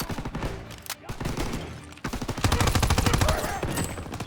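Gunfire in Call of Duty WWII, a loud, dense fusillade of rifle and machine-gun shots, sparse at first and then a rapid, continuous burst of rattling rounds with a short lull in between.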